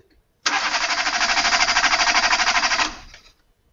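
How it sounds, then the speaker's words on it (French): A car with a booster pack attached cranks but fails to start: a loud, close starter motor whirs in a steady pulsing rhythm for about two and a half seconds, then winds down and stops. "on constate bien que la voiture refuse de démarrer"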